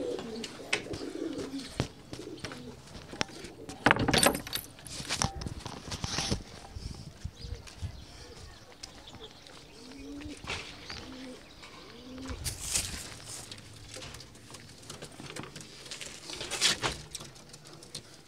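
Pigeons coo repeatedly in soft, rolling calls, fairly close, with a few chirps and light patter between them; no one talks over the sound.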